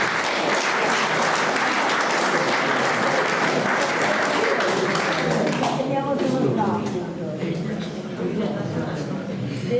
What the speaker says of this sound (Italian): L'applauso a Francesco.